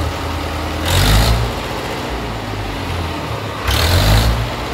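Modified old Mahindra tractor engine, fitted with new piston rings and converted to DI, running steadily nearby, with two louder surges of revving about three seconds apart.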